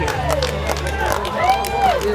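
Volunteers along the course of the 2019 St. George Marathon cheer on finishing runners, a lively crowd of raised, whooping voices nearby with people talking among them.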